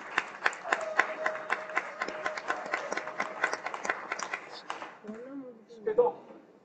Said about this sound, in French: je demande encore une fois de l'applaudir